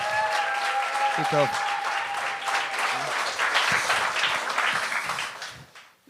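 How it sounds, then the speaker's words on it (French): Audience applause at a French-language TV talent show on stage, a dense steady wash of clapping filling the clip and fading at the end, with voices speaking over it. "Est-ce qu'on peut l'applaudir pour on vrai?"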